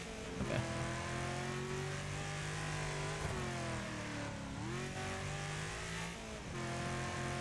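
A race car engine in a racing video game revs hard and steadily, its buzzing pitch climbing and dipping through gear changes in a continuous, loud drone with no talking.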